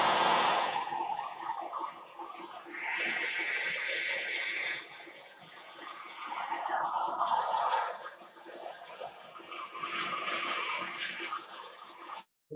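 A gas torch flame roars steadily as it melts borax in a crucible, a broad hissing rush that surges and eases in uneven waves for about twelve seconds, close and fairly loud.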